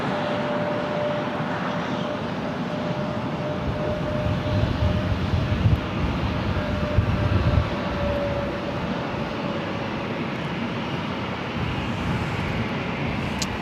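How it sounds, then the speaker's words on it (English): Delta Airlines Airbus A321 arriving on the north side at LAX, a steady broad jet roar held throughout at moderate distance with a faint whine running through it. "Our next arrival here on the north side is Delta Airlines Flight 2119 coming in from Minneapolis"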